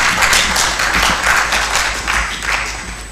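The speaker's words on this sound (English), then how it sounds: "Please, an applause to her as she comes in." Seminar audience applauding as a speaker walks in, loud, close, uneven clapping with individual hand claps standing out, tapering slightly toward the end.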